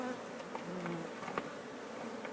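Honey bees swarm and drone around an open hive during a frame inspection, a steady close-up buzz with a few louder passes near the listener.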